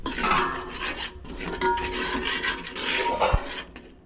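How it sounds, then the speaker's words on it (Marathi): Ghee-rich pav bhaji mixture stirred in a pan, giving a continuous close scraping and rubbing of spoon against metal with a brief sharp knock near the end. "आता ढवळून घेते हे सगळं"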